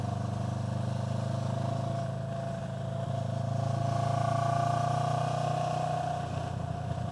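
A naked-bike motorcycle with its pillion seat and passenger footpegs removed, engine running with a steady low throbbing drone that swells slightly as it pulls away, continuous and fairly close.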